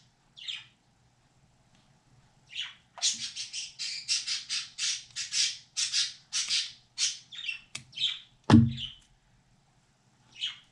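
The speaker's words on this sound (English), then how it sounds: "Y'all hear those crazy birds?" Birds squawk in a burst of harsh, repeated calls, loud and fairly near, with a sharp knock partway through and short quiet gaps.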